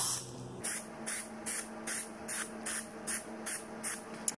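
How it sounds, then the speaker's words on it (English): Short bursts of aerosol Plasti Dip spray hissing out in a steady rhythm onto a Jeep Grand Cherokee emblem, about eight quick sprays separated by brief pauses, close and clear. "here's my first spray"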